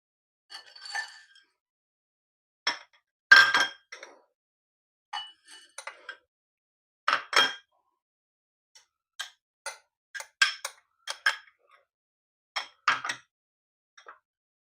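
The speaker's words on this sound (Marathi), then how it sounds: "सगळं साहित्य आता एकत्र करून घेऊया." Peanuts, potatoes, pomegranate seeds, black salt and red chilli are tossed together for fasting bhel, giving sparse, light clinks and taps of a utensil against a bowl in a quiet kitchen.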